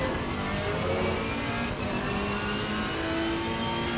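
On-board engine of a Ferrari race car in the racing game Assetto Corsa Competizione at Laguna Seca, a loud, sustained, steady engine roar holding high revs without a break.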